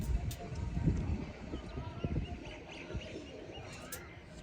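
Racing pigeons coo and flutter nearby, low soft calls repeating among scattered chirps and light knocks while someone talks over them.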